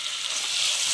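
Sliced onions sauté in a pan for a mutton curry, giving a steady, even sizzle that holds at a constant level throughout with no voices.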